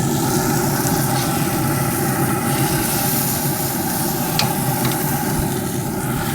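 Steady, loud sizzling of tri-tip searing on grill grates over a Rec Tec RT-590 pellet grill, a continuous crackling hiss with a few faint clicks.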